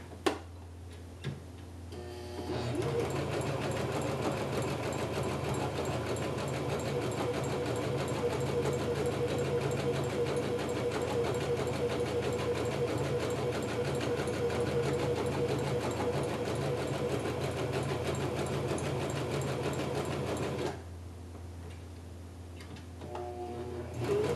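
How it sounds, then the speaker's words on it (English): Sewing machine running a zigzag stitch along the edge of fabric for a kimono gown, a fast steady mechanical ticking drone that runs continuously for about eighteen seconds, close and loud, then stops. "I'll go ahead and finish this last edge in a zigzag"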